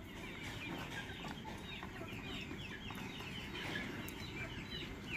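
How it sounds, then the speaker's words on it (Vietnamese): A large farm chicken clucks and squawks while being tied up with its wing clipped, agitated calls repeating close by over a dense, steady rustling background noise. "Con gà nó to mà cảm thấy nó bay vào đây"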